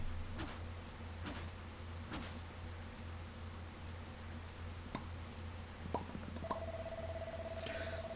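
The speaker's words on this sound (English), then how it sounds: "And it's raining, so you don't even need to worry about watering." Rain falls in the video game Dragon Quest Builders 2 as a soft, steady hiss with scattered droplet taps, heard over a low game hum and a brief tonal chime.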